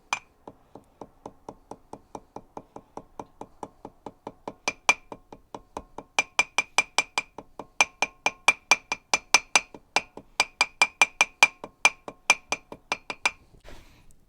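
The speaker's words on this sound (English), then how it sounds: "you can grab a hammer and just tap it really slow, just so you can get it flush with the metal or the lip." A hammer taps a drum bearing seal flush into a metal lip: dozens of slow, evenly spaced metallic clinks, quieter at first and ringing brighter and louder in the second half.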